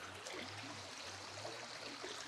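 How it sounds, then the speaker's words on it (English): A small stream flows beside a rural terraced plot of land in Portugal, a faint, steady trickling wash heard quietly from nearby with no voices. "and after is the river."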